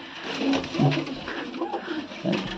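A racing pigeon coos in low, soft, repeated warbles, close by, with light background noise.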